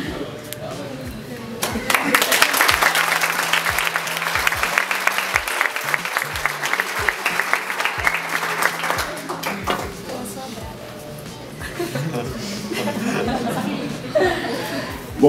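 A crowd at a talk on entrepreneurship in the urban periphery breaks into sustained applause for several seconds, mixed with scattered chuckles and voices, then fades back to a murmur of the room.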